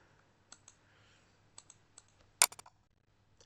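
Computer mouse clicks in Windows Vista file explorer, with a handful of sharp, quiet single clicks spaced irregularly and a brief quick cluster, close and alone.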